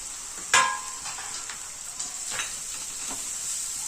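Spiced okra hitting hot oil with cumin in a pan, an initial burst of sizzling followed by a steady hiss and a few stirring scrapes, close and moderately loud.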